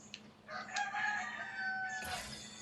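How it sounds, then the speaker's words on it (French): A rooster crows in the ARK survival video game, one drawn-out call lasting about two seconds over quiet ambient game sound, with no talking. "il y a des poulets ici"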